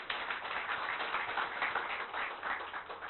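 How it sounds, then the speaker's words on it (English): Steady applause from an audience, a continuous wash of many hands clapping, faint and somewhat distant, with no voices. "I request all of you to welcome him with a thunderous applause"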